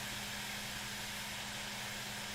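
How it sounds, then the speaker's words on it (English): Steam locomotive cylinder cocks in the Derail Valley train game give off a steady, soft broadband hiss of escaping steam, with a faint low hum underneath and no voices. "Oh, it's just shooting steam out right here."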